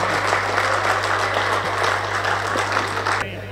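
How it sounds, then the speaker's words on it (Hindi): Audience applause at a Hindi poetry recital, a steady wash of many hands clapping that carries on loud and even for about three seconds before cutting off, with a low steady hum underneath. "तालियां बहुत कमजोर है आपकी।"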